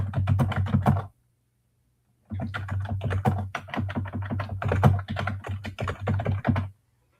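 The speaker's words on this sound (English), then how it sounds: "Somebody typing something?" Rapid clicking keystrokes on a computer keyboard in a quiet room, coming in two bursts with a short pause between them, fairly close and clear with no voices, over a low steady hum.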